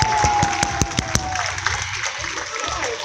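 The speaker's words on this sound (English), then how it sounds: "How about a big final round of applause for our cats today?" Audience applause for big cat performers at a Six Flags animal show, with sharp claps and a steady crowd patter rising near, plus a faint tone and a scattering of voices as the clapping carries on.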